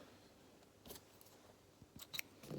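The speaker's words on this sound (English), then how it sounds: "Snip off the thread." A few crisp scissor snips cut sewing thread during machine sewing of a stuffed toy, quiet and close, with isolated clicks leading to a quick double snip near the end.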